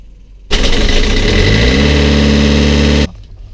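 Boat engine cranking to life and settling into a loud, steady running drone, starting abruptly after a short quiet moment and cutting off sharply near the end.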